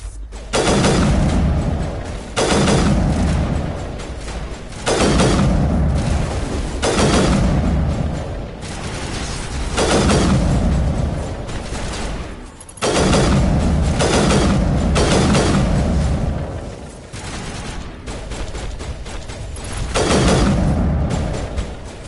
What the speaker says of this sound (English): When did they add a burst sniper rifle to Mass Effect 1?